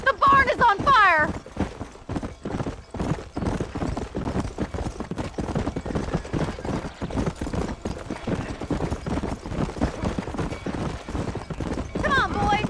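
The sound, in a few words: horses in burning barn, Red Dead Redemption video game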